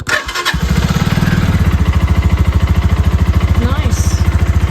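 The engine of a Triumph Rocket III Valkyrie motorcycle cranks on the starter button, catches quickly and settles into a loud, close, evenly pulsing idle.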